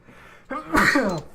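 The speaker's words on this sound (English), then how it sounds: "I sneezed." One sharp, close sneeze: a quick indrawn breath followed by a loud, explosive burst that trails off.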